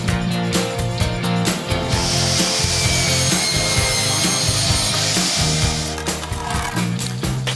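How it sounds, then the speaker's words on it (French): A handsaw cuts through a wooden decking board for a timber terrace, with a loud, steady back-and-forth rasping rhythm close up and no talk. "Alors là, tu vois, Julien, après une coupe, on peut se rendre compte que la lame n'est pas traitée à cœur."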